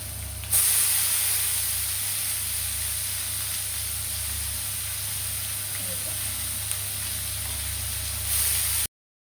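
Dried red chillies, green chillies and tempering spices hit hot oil in a pan, giving a loud, steady sizzle and hiss that runs almost the whole time, with a few faint clinks and no speech.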